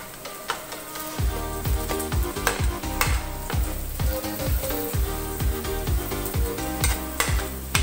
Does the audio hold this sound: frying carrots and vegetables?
yes